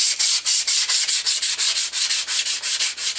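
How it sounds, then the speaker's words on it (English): Rapid back-and-forth rubbing of 220 grit garnet sandpaper on wood, a dry rasping hiss repeating in an even quick rhythm, close and loud with no talking. "Mainly what I'm sanding here is the upright and the bottom piece of wood"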